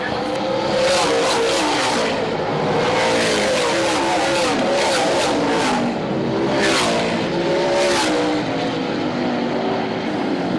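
Race cars accelerate on a restart at Midvale Speedway, engines roaring and revving loudly in a dense, continuous pack with rising pitches as cars pass close by.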